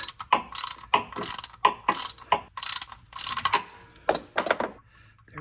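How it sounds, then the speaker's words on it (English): A ratchet with a 3/8 socket works loose the fill plug on the front differential of a 2021 GMC Yukon, with repeated rapid clicking strokes in quick bursts, close and loud. "you just need a square 3/8 socket to get to the plug and fasten it in there, and then crank her loose"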